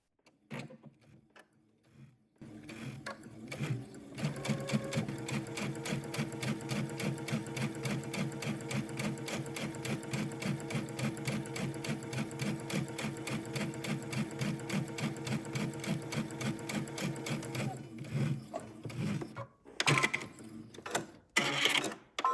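A home sewing machine runs steadily, stitching along a folded pocket edge on loungewear fabric, its close, rapid mechanical chatter continuing for about fifteen seconds before stopping, followed by a few handling clicks.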